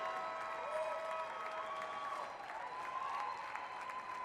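Spectators applaud at an indoor rowing event at the 2019 Department of Defense Warrior Games, with steady clapping, a little cheering and some crowd noise in a large hall.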